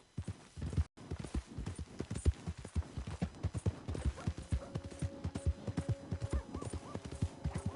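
Horse hooves gallop in Red Dead Redemption 2, a rapid, rhythmic clip-clop of repeated thuds that continues steadily throughout, with a brief whinny-like tonal sound appearing toward the end.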